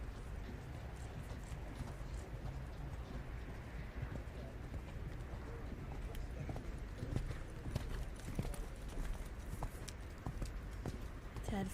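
Horse hooves canter across a dressage arena at a junior eventing championship, a faint, rhythmic thudding under low broadcast commentary and background crowd noise.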